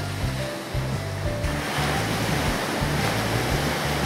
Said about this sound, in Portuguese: Prepare-se para a onda e eu vou pegar a água.